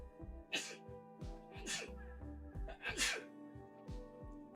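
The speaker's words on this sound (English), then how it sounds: "I gotta sneeze. I gotta sneeze." Several sneezes, each a sharp explosive burst that comes in a repeated rhythm over soft, tonal background music.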